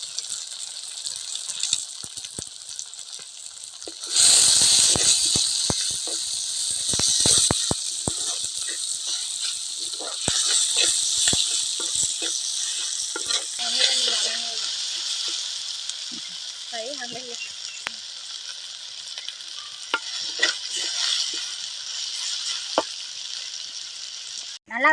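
Chopped ivy gourd and tomatoes, seasoned with salt, fry for a poriyal in a pan with a steady, close hiss of sizzling that swells after a few seconds, broken by scattered scrapes and clicks as a spoon stirs them.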